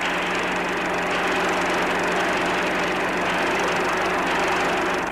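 Racing offshore powerboat engines roar loudly and steadily during a 1967 Cowes–Torquay race, a continuous high-pitched whine with no pauses.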